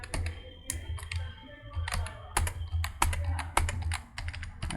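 Keys clatter in steady bursts of typing on a computer keyboard while writing flexbox and grid code, a close, continuous run of clicks with short pauses and no voice.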